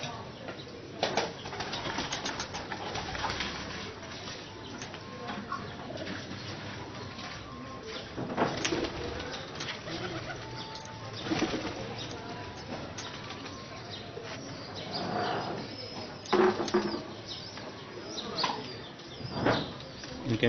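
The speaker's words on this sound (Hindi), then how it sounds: "ये सारे मामदीन कमगर गोल्डन कबूतर" A flock of Mamdeen golden kamgar pigeons coos at a breeder's loft, with repeated bursts of wing flapping scattered through a steady, busy background of bird calls and faint chirps.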